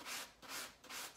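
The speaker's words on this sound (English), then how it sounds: "And then I'm gonna just sand it. Sand the trim" A sanding block rubbing on the trim of a dresser drawer, producing three soft, rhythmic back-and-forth strokes, close but quiet.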